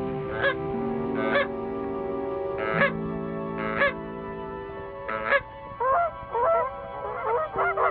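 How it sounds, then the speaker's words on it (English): Geese honk repeatedly over the wintering waterfowl of Chesapeake Bay, loud nasal calls in irregular bursts with ducks mixed in and a steady low background behind them. "The throngs of geese and ducks are a source of delight to the bay's human residents."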